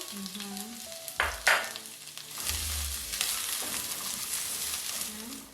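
Onions hitting hot oil for an okra and beef stew, with bursts of loud crackling and handling clatter at first, then a sustained frying sizzle, and brief voices in the background.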